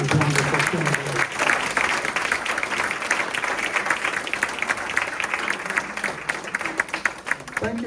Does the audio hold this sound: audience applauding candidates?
yes